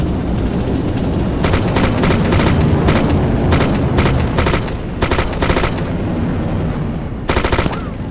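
Automatic gunfire in the military video game Arma II: repeated loud, close bursts of rapid shots in irregular groups over a dense rumbling battlefield background.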